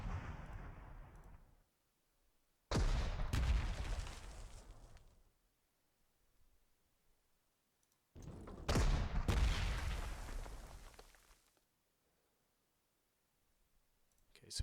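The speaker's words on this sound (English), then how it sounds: "we'll go with artillery first" Two heavy artillery salvos boom in the Panzer Corps 2 wartime strategy game, each a loud blast with a rumbling tail that fades out. The salvos are separated by several seconds of near silence.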